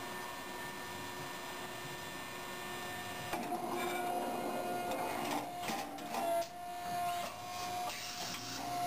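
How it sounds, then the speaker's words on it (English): A machine precision-cuts gasket material in a manufacturing shop, a quiet continuous mechanical whir with a steady high tone that grows busier and louder midway, motors shifting pitch. "Top quality gasket material is precision cut and later coated to create our gaskets."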